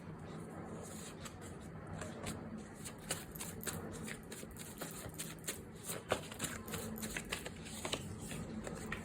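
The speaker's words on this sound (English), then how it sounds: "So just let me pull out few cards." An oracle card deck is shuffled and cards are pulled, giving a soft, continuous riffling and flicking close to the mic over a low room background.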